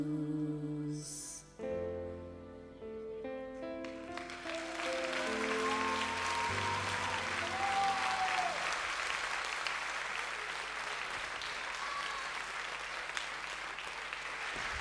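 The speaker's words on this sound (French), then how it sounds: "on peut encore les applaudir très fort" Audience applause for two singers after a French chanson performance, rising from the fading end of the song's music into a sustained, dense clapping that fills the room at steady loudness.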